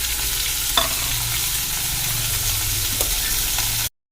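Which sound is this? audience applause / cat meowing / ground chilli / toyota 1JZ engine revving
ground chilli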